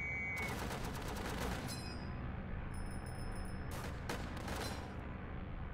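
Rapid machine gun fire from a World War Tower Defense game, dense sustained bursts of gunfire running nearly the whole stretch with clangs and distant booms mixed in, loud and continuous with no talk.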